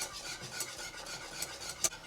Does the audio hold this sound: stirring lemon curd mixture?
yes